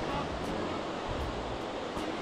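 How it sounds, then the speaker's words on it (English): Ocean surf rolls in at Porthmeor Beach in St Ives on a busy afternoon with beginner surfers, a steady, fairly faint wash of breaking waves with some wind noise and no clear beats. "The waves actually are pretty good."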